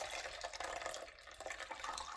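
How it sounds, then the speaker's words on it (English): Liquid panna cotta mixture infused with thyme pours through a sieve into a container, a soft continuous trickle and splatter heard close up and alone, fairly quiet throughout. "we're going to put a sieve on top, and we're going to strain our mixture"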